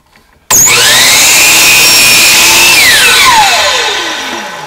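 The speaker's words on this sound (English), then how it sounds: "that cut, bevels it" A power saw bevel-cuts a wooden board for a serving tray: the motor spins up sharply, holds a loud, steady whine through the cut, then winds down with a falling pitch.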